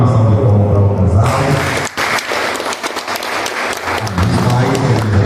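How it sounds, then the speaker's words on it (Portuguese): Wedding guests applaud the couple in a church, a dense wash of clapping that swells after a low hum of music and carries on steadily, with voices mixed in under it. "Dá uma salva de palmas para o casal."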